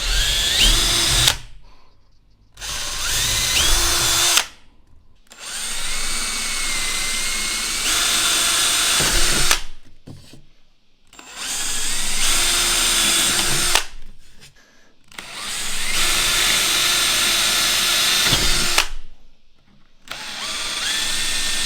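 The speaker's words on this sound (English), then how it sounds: "after drilling a few holes and getting a little bit of use out of this drill" Ryobi 18V One Plus hammer drill boring holes in several separate bursts of a few seconds each, its whining motor rising and falling with short silent pauses between holes, close and loud.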